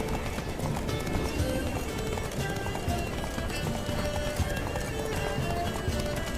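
A horse galloping in The Witcher 3 video game, a fast, steady rhythm of hoofbeats running continuously under game sound and music, fairly loud and close throughout.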